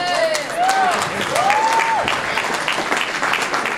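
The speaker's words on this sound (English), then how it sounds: "Nice round of applause for one of the stars of Off the Black." A film festival audience applauds a returning actor, with whistling cheers sliding up and down over the dense clapping, fairly close and loud throughout.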